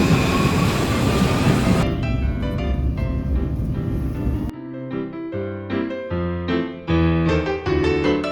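Train ride in Paris: loud rolling rumble and rattling of the carriage for roughly half the clip, then bright melodic tones take over while the rail noise drops away, with no talking.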